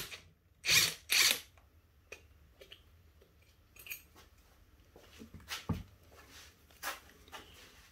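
Ratchet socket wrench working a fastener on a 1966 Evinrude 18 hp outboard motor in a shop: two loud bursts of ratcheting clicks early, then scattered metallic clinks, taps and small mechanical rattles, close up with no talking.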